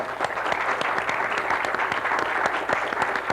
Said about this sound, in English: In return, you applaud the audience.